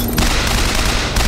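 Automatic turret gunfire in the BioShock Infinite video game, a dense continuous burst of rapid shots filling the whole moment at close range, loud and steady with no voices.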